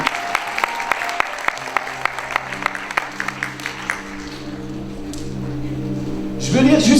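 An audience at a French-language church service claps steadily together in rhythmic applause that fades into a broader wash of clapping and murmur, then a voice rises at the end.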